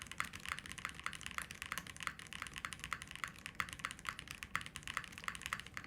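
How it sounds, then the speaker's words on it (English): Typing on a Link65 mechanical keyboard with an ABS spacebar set directly on a bare desk without a pad: a quiet, close, rapid run of crisp clacking keystrokes in an irregular steady rhythm. "This is a nice spacebar sound."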